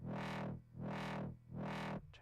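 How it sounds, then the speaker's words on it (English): A wobble bass synth in Reason, made harsh by Scream 4 distortion, pulses in three loud, slow, swelling waves, thick and gritty, ending in a brief glitchy tail. "Now we just need to add some distortion. Just make it really crazy sounding and nasty."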